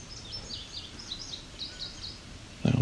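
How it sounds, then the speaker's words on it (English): An indigo bunting sings along the Bruce Trail near Otter Lake: a string of high, sweet paired chirps repeats steadily at moderate distance over quiet woodland, ending in a brief low thump. "Here we go with an indigo bunting."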